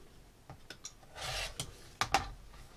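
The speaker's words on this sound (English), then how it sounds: "just trim off the rest" Quilt block fabric being trimmed along a ruler edge, heard as a few close, soft scraping and rasping strokes with brief clicks, including one longer rub in the middle, in an otherwise quiet room.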